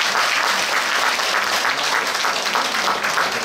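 Audience applause at an outdoor summer saxophone concert, a thick, continuous roar of many hands clapping, loud and even throughout with no talk over it.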